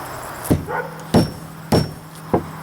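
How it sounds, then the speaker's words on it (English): A hammer knocks the ferrite core off a copper yoke: four sharp, close, evenly spaced whacks with short ringing tails and no talking. "Just keep hitting that ferrite until it's broken up."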